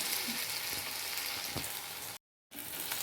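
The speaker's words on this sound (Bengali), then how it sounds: "এটা আমি এরকম সবকটা পনির ভেজে নেব লাল লাল করে ভাজা হয়ে গেছে" Paneer fries in a wok for a chili paneer dish, giving a continuous close sizzling crackle that briefly cuts out before resuming.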